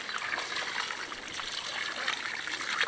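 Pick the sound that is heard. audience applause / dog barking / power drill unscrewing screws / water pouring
water pouring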